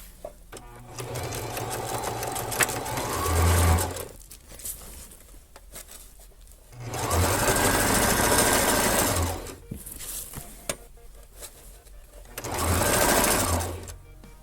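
Sewing machine running a flat stitch along a hem of old curtain fabric, three sustained whirring runs separated by pauses with small handling noises in between.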